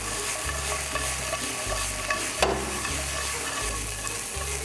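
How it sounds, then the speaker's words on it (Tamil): Crispy fried vegetables tossed with salt and pepper masala in a hot pan, giving steady sizzling with repeated rhythmic scraping and stirring strokes, close and fairly loud, with no talking. "இது மாதிரி அந்த சால்ட் அண்ட் பெப்பர் மசாலா எல்லா இடத்துலையும் மாதிரி டாஸ் பண்ணி எடுக்கணும்"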